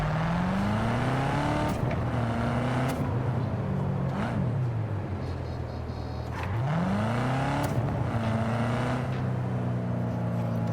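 Car engine driven in the video game Cyberpunk 2077, a continuous loud drone that rises through gear shifts again and again, with brief dips and climbs in pitch as it accelerates, no talking.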